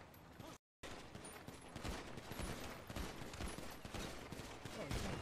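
Gunfire during a GTA shootout, dense overlapping bursts of rapid shots at low level, with a brief dropout near the start and continuous crackling shots throughout.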